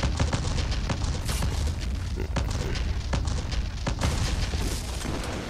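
A rapid chain of explosions and gunfire in the Xbox shooter Black, set in an enemy factory, rolls on loudly and continuously with repeated booms and crackling blasts.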